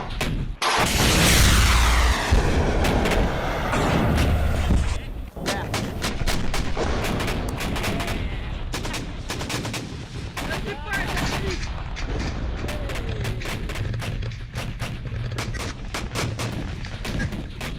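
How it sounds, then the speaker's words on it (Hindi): Gunfire and explosions in the war in Ukraine, opening with a heavy boom and rumble, then a long stretch of sharp shots cracking in rapid, irregular bursts at high volume. "आवाज दिन भर बस गोलियों की और धमाकों की आती है"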